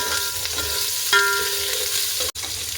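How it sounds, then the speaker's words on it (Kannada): Onions frying in about two spoons of hot oil for a fish sambar, a steady close crackling sizzle running throughout with one brief dropout near the end. "ಈರುಳ್ಳಿ ಬ್ರೌನ್ ಕಲರ್ ಬರೋ ತನಕ ಫ್ರೈ ಮಾಡಬೇಕು."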